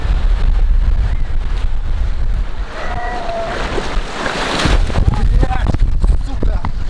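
Ocean waves breaking at a Cape Town shore under strong wind, with heavy wind buffeting on the microphone, a surge of surf swelling mid-clip, and faint voices.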